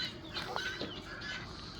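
Silver Brakel chickens and a rooster call and cluck in a noisy poultry yard, with short squawks and a faint honk-like cry over steady background chatter of fowl.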